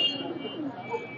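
Pigeons coo softly and continuously at a busy pigeon market, several birds layered close together in a short burst of low, throaty calls.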